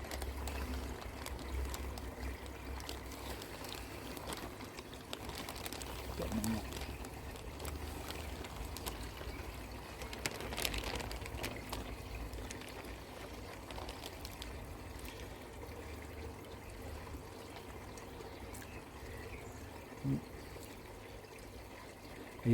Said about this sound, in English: Get a bit of pond water in this bag